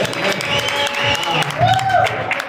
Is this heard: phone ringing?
no